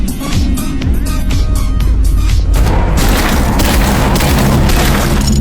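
An unlimited-ammunition gun in a horror video game set on a night-shift New York subway fires in dense, rapid bursts, booming and crashing loudly over a low rumbling game soundtrack, growing heavier in the second half.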